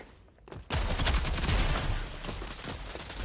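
Rapid bursts of automatic gunfire from the shooter game Rogue Company rattle loudly and close, a dense fusillade that starts abruptly and continues for a few seconds without talking.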